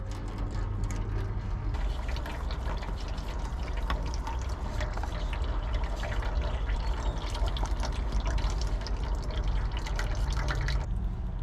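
Milky used oil draining steadily from a seized Cadillac V8 engine in a farmer-built airboat, a continuous close trickling and dripping stream with no pauses, heard alone.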